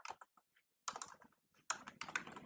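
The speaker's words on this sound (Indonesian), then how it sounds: "kemudian kita ketikkan" Someone types code on a computer keyboard at close range in two or three quick flurries of crisp key clicks, separated by short silent pauses, with no speech.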